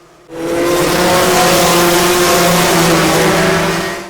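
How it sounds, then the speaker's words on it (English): Racing karts roaring past near the close of a 200-lap, 100-mile endurance race, a loud, sustained high-pitched engine drone that swells in abruptly and holds steady without a break. "After roughly 200 laps, the karts finally come round to take the checkered flag."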